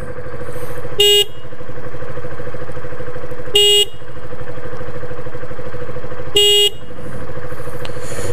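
Three short, loud car horn honks spaced a few seconds apart over a steady idling engine hum.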